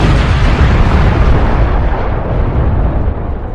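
A deep, roaring explosion effect meant to depict the Big Bang: a loud, dense, sustained rumble with no voices that fades slightly toward the end.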